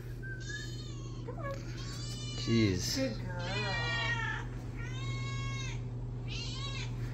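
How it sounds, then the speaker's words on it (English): Several cats meow repeatedly in short, wavering cries, close by and overlapping, with a person speaking briefly among them and a low steady hum underneath. "Out of here, cats."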